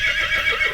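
A European Silesian breed horse whinnies in one short, high, wavering neigh, loud and close, with no other sounds.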